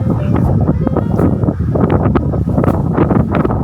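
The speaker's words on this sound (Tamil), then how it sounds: "இயற்கை காற்று அப்படியே அள்ளி கொடுக்கும்." Breeze across an open residential plot in Manimangalam, Tamil Nadu buffets the microphone in loud, uneven gusty rushes, with someone speaking throughout.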